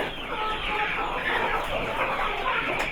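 Kienyeji free-range chickens cluck and call on a farm, a dense, continuous flock chatter heard close and steady throughout, with faint background voices.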